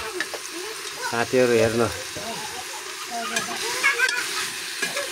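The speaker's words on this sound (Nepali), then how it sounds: "ल मासु पकाउँदै गरेको" Meat sizzles and fries in a pan while being stirred, with a burst of spatula scraping near the middle, a faint tap-water hiss in the background and a voice talking briefly over the cooking.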